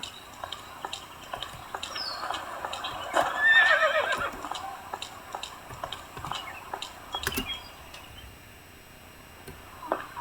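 A horse whinnies once in the middle of the game Alexandra Ledermann 4, surrounded by light ticking and clip-clop game sounds with soft background music.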